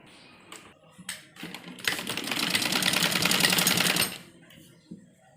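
A sewing machine stitches printed kurti fabric in a loud, steady mechanical run of about two seconds, preceded and followed by softer handling clicks and taps, close up with no talk.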